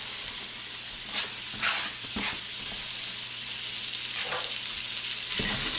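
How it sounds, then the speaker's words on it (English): Vegetables sizzle steadily in a hot Instant Pot after a pot roast has been browned in it, with a bright continuous frying hiss and a few louder bursts as pieces land and get stirred. "We're going to add in all of the vegetables now. Just going to dump them right on in there."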